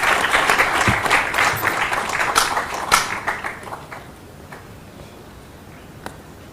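Audience applause at a cultural event in New Delhi welcoming a guest onto the stage: a dense burst of clapping that thins out and fades over the final few seconds.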